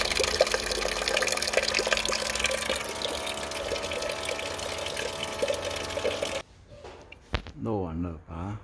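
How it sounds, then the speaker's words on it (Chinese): Coolant water drains out of a Mercedes-Benz radiator in a steady, splashing pour for several seconds, then stops abruptly; someone speaks briefly afterward. "把水箱的水漏下来"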